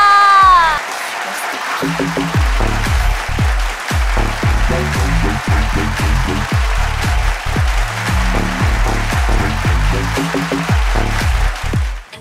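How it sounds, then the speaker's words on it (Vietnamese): Audience applause on a television show stage greeting a singer, a dense, steady clapping wash lasting the whole stretch beneath loud music with a heavy bass line and some voices. "dành những tràng vỗ tay thật lớn để cùng chào đón ra sân khấu"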